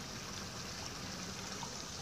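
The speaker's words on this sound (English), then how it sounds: "Limekiln Creek, I don't know if you can see it." Limekiln Creek flows below a hiking trail in Limekiln Canyon, heard as a faint, steady broadband wash of running water with no clear splashes or other sounds.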